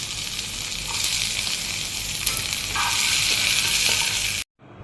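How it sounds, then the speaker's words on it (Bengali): Chicken pieces frying in a pan give a loud, continuous hissing sizzle with faint stirring clicks, cutting off abruptly near the end. "চিকেনগুলো একটু ভেজে নিচ্ছি।"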